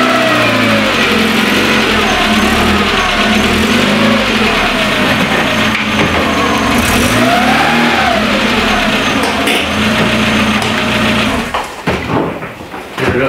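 A car engine revs and hums steadily as the vehicle is driven and edged into place in a cramped parking spot, with engine pitch rising and falling through the manoeuvre before tailing off near the end.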